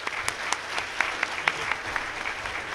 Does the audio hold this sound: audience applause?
yes